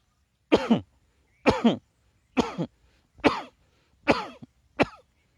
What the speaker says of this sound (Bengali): এবার মুখটা বন্ধ করে কাশি দেন